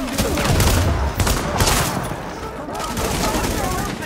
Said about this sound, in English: This fucking shotgun is nasty.